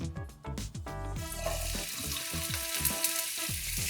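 Vegetables sautéing in half a cup of hot oil give a steady, close sizzle with soft bursts of crackle throughout, and no one speaks over them.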